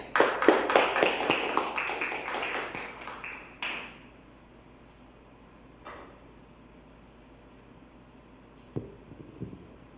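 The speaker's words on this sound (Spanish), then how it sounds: "Un aplauso para ellos." A small audience applauding panelists at a literary talk, brief close clapping that tapers off within about four seconds, followed by quiet room tone with a few scattered knocks.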